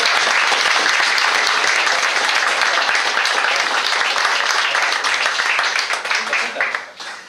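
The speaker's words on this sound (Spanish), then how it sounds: "le damos un aplauso de bienvenida" Sustained crowd applause welcoming a physics lecturer at a conference, loud and dense throughout, then thinning and tapering off near the end.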